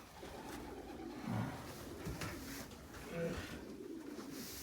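Purebred sport pigeons coo close by in low, soft, rolling calls, with a couple of distinct phrases over a dull background murmur.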